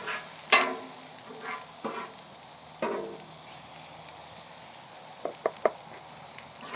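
A spatula scrapes and taps across a hot griddle as frying vegetables are moved, with a steady sizzle underneath and several sharp metallic clacks and scrapes standing out, close by.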